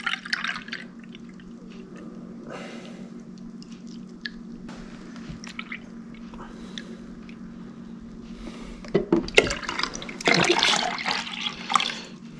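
Vanilla-flavored sweetened almond milk pours into a container for an ice cream recipe. A soft, steady liquid trickle runs throughout and turns into louder splashing and sloshing near the end, with no talking.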